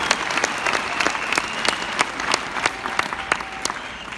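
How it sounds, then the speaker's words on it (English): An audience at a nursing graduation ceremony claps continuously, a dense crowd applause with individual sharp claps standing out throughout. "I thank you all for applauding for them as hard as they have worked hard to give it"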